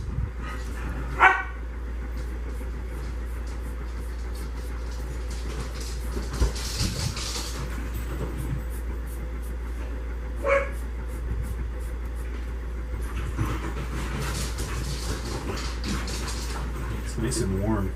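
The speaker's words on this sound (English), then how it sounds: "Dogs are crazy today." Dogs bark in the background of a workshop while a knife blade is shaped, a few sharp barks spread across the stretch amid steady noise and occasional talk.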